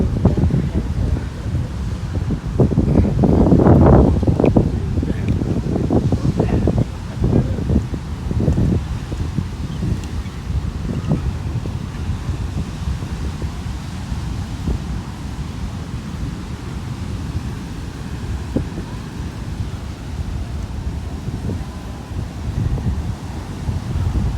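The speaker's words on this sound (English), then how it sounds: "This is some high waves. Water's really high." Strong wind buffets the microphone while high surf crashes and rolls during Hurricane Dorian, louder surges early on, then a continuous roaring wash.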